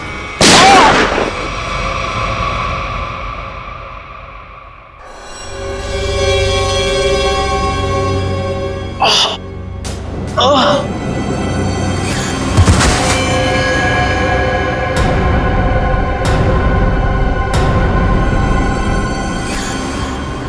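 A few sharp, loud gunshots crack out at irregular intervals over a swelling, tense orchestral score, with echoing booms trailing after them.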